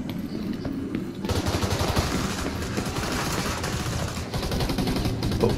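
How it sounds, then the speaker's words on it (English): Sustained rapid automatic turret gunfire in The Division 2 skirmish match, dense and loud throughout, with continuous bursts of shots filling the whole stretch. "The turret's shooting at him"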